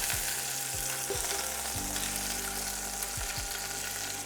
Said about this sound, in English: Now we brown the sides.